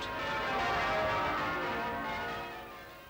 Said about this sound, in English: The bells of St. Paul's began to peal across the roofs of London in a 4-hour birthday tribute